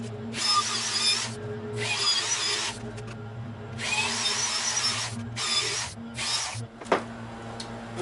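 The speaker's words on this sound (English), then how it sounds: "I'm just going to go ahead and finish up the rest of the lag bolts" A power drill driving lag bolts into a 2x4 workbench, several loud, sustained whirring bursts with short pauses between, close by, ending in a sharp knock.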